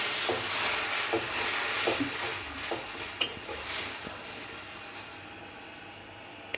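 Water poured into a hot pan of drumstick, potato and tomato curry sets off a loud, steady sizzling hiss, with a few faint scraping stirs and no talk.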